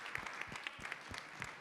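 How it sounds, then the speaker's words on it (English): A short burst of crowd applause, many hands clapping quickly together, fairly faint and without voices. "let's give a round of applause to Alan for his amazing presentation"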